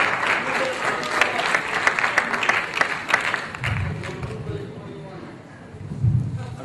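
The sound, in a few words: audience applause in a class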